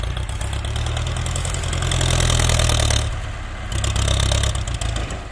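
A Ford 6640 tractor engine runs hard at full power during field work, a loud, close, rumbling drone that surges and eases back slightly before pulling strongly again, with no voices.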